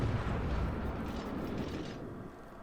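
A heavy, booming salvo of warship guns in World of Warships, one deep rumbling blast fading out over a few seconds, with no talking.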